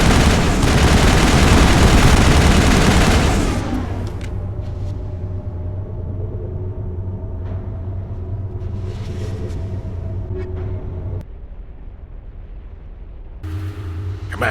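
Mass Effect time-trial gunfire: a dense, loud rattle of rapid shots with heavy rumble for about three seconds, then a lower steady hum with faint scattered pops.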